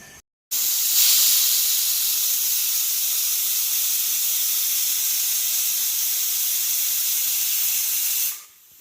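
A pressure cooker on the stove, cooking an herbal rice porridge sweetened with jaggery, lets out a loud, steady hiss of escaping steam for about eight seconds after a short gap, then cuts off abruptly.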